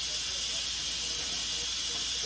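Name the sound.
cooker releasing steam before lid removal, beef stroganoff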